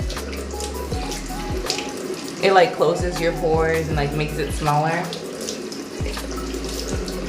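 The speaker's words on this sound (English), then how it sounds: "So we're gonna start with just first wetting the face, right? Oh, it's cool. Apparently, cold water is best." Cold tap water runs steadily into a bathroom sink while the face is being wetted, with splashes and a person talking over the flow.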